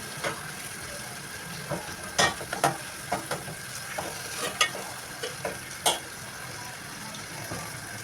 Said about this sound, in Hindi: और जब टमाटर थोड़े से सॉफ़्ट हो जाएंगे तो हम इसमें लाल मिर्च डाल देंगे